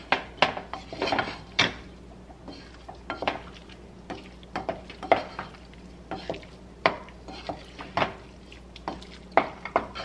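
A utensil mixes food in a bowl with lightly cheesed ingredients, giving repeated clinking and scraping strokes in an irregular rhythm, close and moderately loud with no talk.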